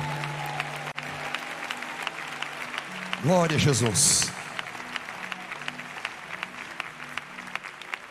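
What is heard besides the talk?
church congregation applauding joyfully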